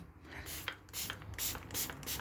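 Bleach sprayed from a hand spray bottle onto mold on a damp wall, in a string of short, soft hissing bursts repeated at a steady pace, quiet and close.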